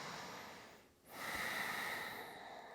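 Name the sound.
deep breathing during a yoga twist stretch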